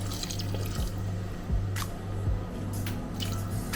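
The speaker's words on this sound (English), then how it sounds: "So I'm adding 4 ounces of water." Water is poured from a container into a pan of seasoned ground beef for lasagna, giving a steady close liquid wash with a few light drips and splashes over a constant low hum.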